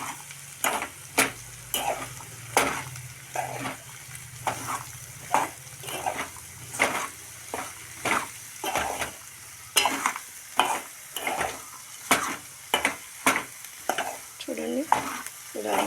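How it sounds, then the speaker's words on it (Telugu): Spiny gourd curry with chili powder being stir-fried Telangana style in a pan, a steady sizzle broken by repeated rhythmic scraping strokes of a spatula roughly every half second, close and loud, no talking. "అందుకనే నేను కారం వేసి వండుతున్నా."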